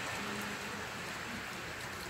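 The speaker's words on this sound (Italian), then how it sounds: "La pioggia ha rallentato di molto" Steady light rain falling on an Italian street after a hailstorm, a soft continuous hiss with faint patter, calm and even throughout with no voices.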